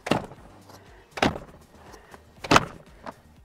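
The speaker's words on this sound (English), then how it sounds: "You're gonna wanna give it a good slam to make sure that you hear that audible click." The ClickTight door on a Britax Poplar car seat is slammed shut three times, each a sharp, close thud with a click, spaced about a second apart.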